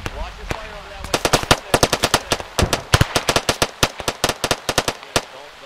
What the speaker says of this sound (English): calling in precision gun rounds, short bursts on the town, on armed individuals